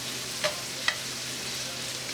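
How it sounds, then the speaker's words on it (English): Peppers cook in a pan with a low, even sizzling hiss, broken by two brief clicks of a utensil against the pan. "So we're going to cook our peppers for about a minute."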